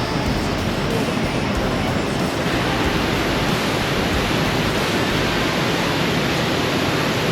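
Waterfall roaring as a constant dense wash of rushing water, loud and steady throughout with no breaks and no voices.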